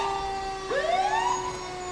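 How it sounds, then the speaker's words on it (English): A fire truck siren wails in the distance at an Independence Day parade in Kentwood, its tone sweeping upward steadily over a low background hum. "It's nice to hear the sirens when they're not on the way to the fire."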